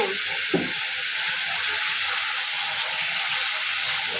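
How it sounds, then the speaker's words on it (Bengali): Spices fry in oil in a pan, a loud, steady close-up sizzle that hisses continuously with a soft stir near the start. "তেলের মধ্যে একটু ভেজে নিলাম কাঁচা গন্ধটা দেওয়ার জন্য"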